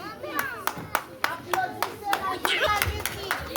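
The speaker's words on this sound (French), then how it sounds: "Applaudissez la justice." Scattered hand claps from a small audience at a community Mawlid celebration, a dozen or so sharp separate claps in an uneven rhythm, with voices and someone talking underneath.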